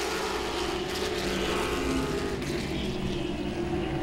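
Late model stock cars race at Langley Speedway, a steady loud engine roar that fills the clip from start to finish without a break.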